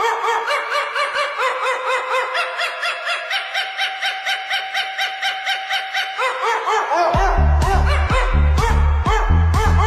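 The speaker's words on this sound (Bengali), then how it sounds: "কিন্তু কুত্তার গান কি ট্রেন্ডিংয়ে শুনেছো?" Dog barks set as a song: rhythmic, pitched yelps repeat steadily over a melody, then heavy bass beats kick in near the end as the track builds, loud and upfront with no talking.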